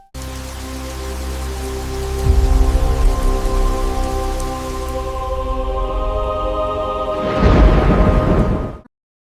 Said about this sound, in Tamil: நம் அனைவருக்கும் தெரிந்த மழை இதுதான்.